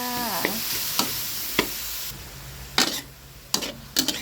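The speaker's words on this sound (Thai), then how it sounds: "ผัดไปเรื่อยๆก่อนนะคะ จนหมูของเราจะสุกจ้า" Pork stir-fried in a pan sizzles steadily while a utensil scrapes and taps the pan several times at irregular intervals, close and fairly loud, with no voices.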